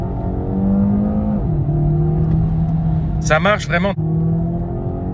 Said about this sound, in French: si vous accélérez, par contre, le moteur thermique va se mettre en route.